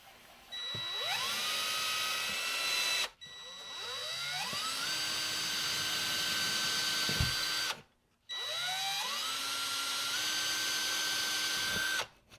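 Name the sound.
power drill drilling pilot holes for a J hook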